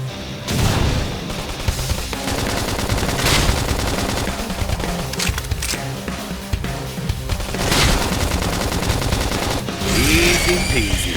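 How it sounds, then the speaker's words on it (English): Rapid bursts of gunfire and booming impacts in Xenoblade Chronicles X over dense, loud action effects and music, with shouted callouts mixed in throughout. "Now, topple him with some gunfire."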